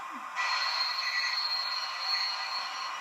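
A soft hissing release of air from a Hornby model train's brake sound effect rises after a brief pause and holds steady with a faint high whine.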